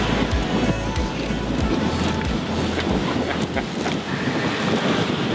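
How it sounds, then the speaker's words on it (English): A sailboat on an offshore ocean passage rides a calmer sea after rough water. Steady wind buffets the microphone over continuous wave wash and low thumps against the hull, with no talking. "Or the sea is a lot calmer now."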